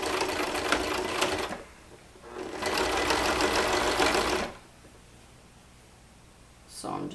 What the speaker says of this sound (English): so I'm just sewing closed that opening.